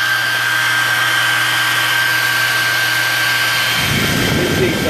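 A hair blow dryer motor runs with a loud, steady whooshing roar and a high whine, the tone shifting near the end as the setting changes, with no speech.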